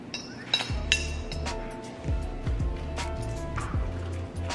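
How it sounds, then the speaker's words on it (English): Ice cubes clink and rattle against a glass at close range, several sharp chinks followed by softer knocks and settling, with a little background kitchen noise and no speech. "Go with an ice cube if you like."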